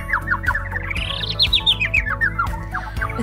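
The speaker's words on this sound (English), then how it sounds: "It's easy. It's a bird." A bird chirps in a quick, steady series of bright, high-pitched tweets that rise and then fall in pitch, loud and close over a low background hum.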